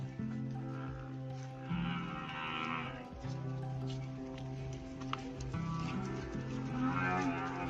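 Village cows moo in long, deep calls, several near and loud one after another over a faint outdoor background.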